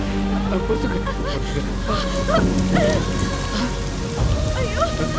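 Rain falls steadily in a film scene, a continuous close patter on surfaces with faint rumbling underneath, while voices are heard over it.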